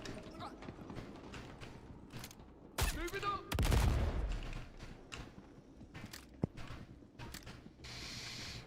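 Gunfire erupts in Star Citizen, scattered sharp shots and one loud close burst amid clattering in-game mechanisms, with players talking over parts of it.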